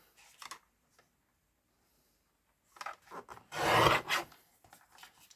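Paper trimmer slicing designer series paper for a card, a short soft rasp followed by a louder, longer scraping cut, close and with no talking.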